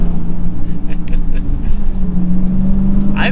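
A 2023 Dodge Challenger R/T Scat Pack 392 V8 pulling under throttle on a cold day, a loud, close, steady engine drone with a rising tone and a brief higher burst at the end.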